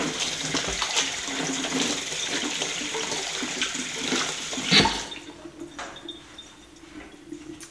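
A kitchen tap runs hard while a sticky bowl is rinsed under it, a steady rushing splash that cuts off and leaves quieter dripping at the end.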